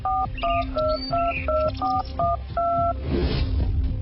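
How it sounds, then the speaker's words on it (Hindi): A telephone number is dialed as a series of about ten short, clear two-tone keypad beeps in a steady rhythm, followed by a faint burst of noise, with no talk. "ये कहकर उस आदमी ने पुलिस को फोन मिलाया"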